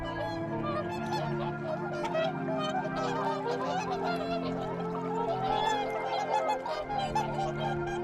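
Whooper swans call repeatedly in a flock, overlapping honking and bugling notes at moderate volume that continue throughout with no voices.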